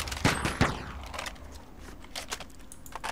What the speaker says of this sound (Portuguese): Tá atirando em mim, socorro.